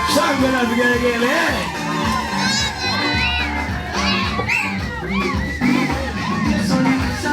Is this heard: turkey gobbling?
no